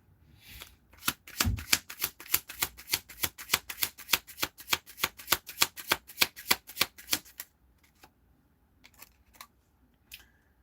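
Tarot cards being shuffled in a rapid riffle, a dense run of crisp flicking snaps for about six seconds, followed by a few softer scattered card taps and shuffles, close and alone without speech.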